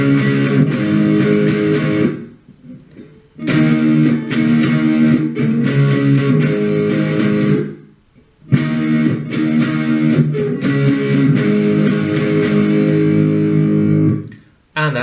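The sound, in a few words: guitar playing intro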